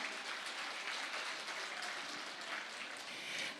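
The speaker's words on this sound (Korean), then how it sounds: "역시 뜨거운 박수 부탁드립니다." Audience claps for judges being introduced at a geopark interpretation contest, a fairly quiet, even patter of many hands heard from a distance and sustained throughout.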